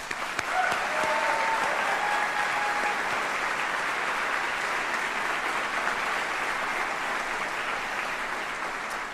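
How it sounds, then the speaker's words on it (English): A seated audience at a military general officer retirement ceremony claps in steady, sustained applause, fairly close and even throughout, with a few faint voices beneath. "join me in just a round of applause for everyone who's had any active part in putting today's ceremony together"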